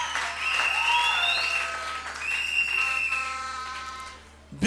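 A church congregation applauds in a steady, sustained wash of clapping with a held high tone from an instrument or voices over it, then the clapping thins out toward the end.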